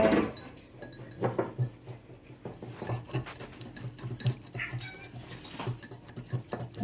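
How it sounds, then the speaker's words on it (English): Pet cats and dogs move about a home kitchen, giving soft patters, scrabbling paws and light clinks of glass and metal in an irregular stream, close by and fairly quiet, with no talking. "The noises you can hear are all the animals in our zoo, cats and dogs"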